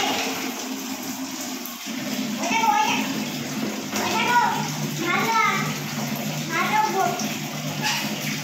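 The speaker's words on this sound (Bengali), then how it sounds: "জলটা দাও ভরতে কলে" Water runs steadily from a tap to fill a bath, a continuous rushing wash underneath a child's babbling and an adult voice speaking close by.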